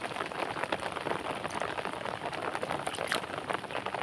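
Steady rain falls continuously at a fishing spot, a dense even hiss with scattered drops and no speech.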